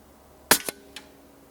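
Cricket II air rifle fired toward targets at 70 yards: a sharp, loud crack followed by a quicker second report and a fainter third pop, spaced apart over quiet background.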